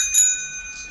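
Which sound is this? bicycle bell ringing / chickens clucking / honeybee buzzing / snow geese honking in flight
bicycle bell ringing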